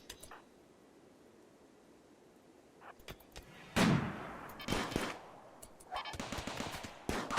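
Defensive turrets in a siege video game firing at attackers against a granite wall: quiet at first, then bursts of loud, rapid gunfire that grow denser and closer toward the end.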